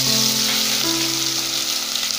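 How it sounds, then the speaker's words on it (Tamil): Big chopped onions sizzle steadily in hot oil in a pan for coriander biryani, a loud continuous frying hiss with no voices. "நம்ம கட் பண்ணி வச்சிருக்க வெங்காயம் சேர்த்திக்கலாம், பெரிய வெங்காயம். வெங்காயம் நல்லா வணங்கட்டும்."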